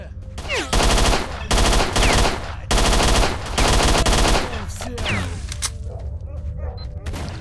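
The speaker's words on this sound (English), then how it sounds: "Okay, I'm gonna use this gun now." Bursts of automatic gunfire from a gun in the game STALKER, several loud, close rattling volleys a second or two each with brief gaps, then a quieter tail of scattered shots and ambience.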